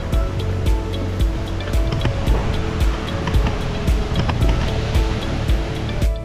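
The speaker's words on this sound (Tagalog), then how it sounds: "maririnig na rin ang lagos-lus ng tubig mula dito" Water rushes and roars at Bunga Falls in Nagcarlan, Laguna, a loud, continuous broadband wash with low rumbling, close by and steady throughout with no talking.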